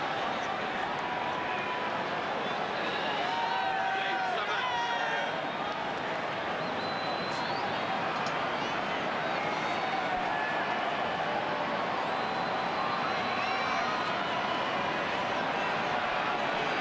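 A sell-out rugby test crowd at Eden Park gives off a steady, broad murmur of noise that holds throughout, with a commentator talking over it.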